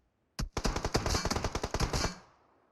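Automatic gunfire rattles in a rapid burst of about a dozen and a half shots in PUBG Mobile, loud and close, ending abruptly into silence.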